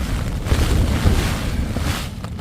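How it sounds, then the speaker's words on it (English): Roaring water from a nearby stream in a wet, windy Lake District wild camp, a steady loud broadband rush with gusting wind and rain buffeting the microphone throughout. "You can hear the water roaring down by that stream."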